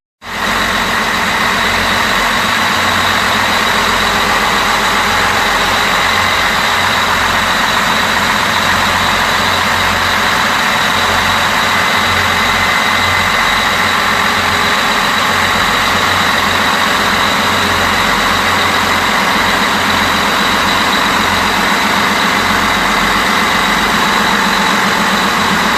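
Twin CAT 3196 marine diesel engines run aboard a Johnson 56 boat on a sea trial, a loud, steady, unbroken drone with a deep low rumble and a constant high hiss, no voices.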